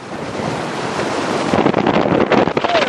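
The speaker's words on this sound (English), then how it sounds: "We're in hurricane force winds." Strong, near hurricane-force wind on a fishing pier over the sea, loud gusty buffeting against the microphone mixed with surf, growing rougher toward the end.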